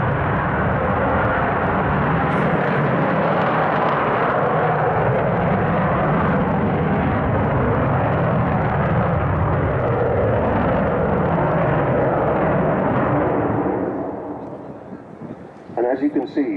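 An Avro Vulcan XH558 jet bomber flies a display at an air show, a loud sustained roaring rumble from its engines that fades after about fourteen seconds as brief crowd sounds break through.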